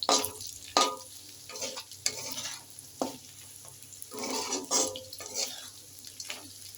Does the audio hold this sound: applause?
no